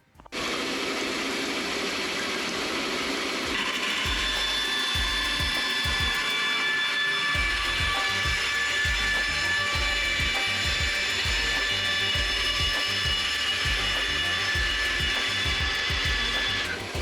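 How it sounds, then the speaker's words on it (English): Bandsaw cutting through black plastic sewer pipe for camper AC ducts, a loud continuous mechanical whir with rhythmic rattling and chattering through the cut, close by and without talk. "let's get this over the bandsaw now."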